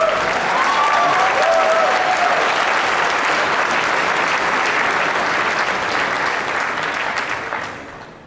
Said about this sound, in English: expect that to get an applause.